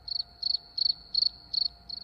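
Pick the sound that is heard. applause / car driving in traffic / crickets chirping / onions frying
crickets chirping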